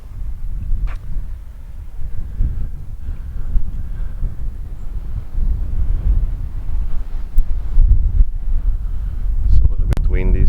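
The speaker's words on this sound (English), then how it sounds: "It's a little bit windy" Outdoor wind rumbles and buffets the microphone in a continuous low roar, gusting louder toward the end, with faint sounds scattered through it.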